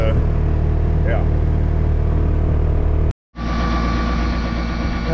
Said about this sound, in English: Okay, tractor's warming up.